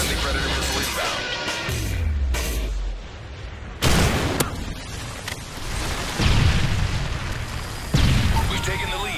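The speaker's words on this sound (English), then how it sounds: "Friendly Predator missile inbound." Predator missile strikes in Call of Duty: Modern Warfare 3 team deathmatch on the Foundation map, several heavy booming explosions amid continuous game gunfire and noise, with voice callouts over the action.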